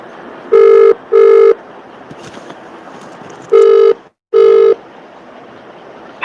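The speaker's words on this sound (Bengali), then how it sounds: "হোয়াটসঅ্যাপ থেকে কেটে আপনাকে আমি ফোন করছি" A phone call's ringing tone sounds clearly as two paired bursts, each a double ring, separated by a quiet gap of faint background hiss.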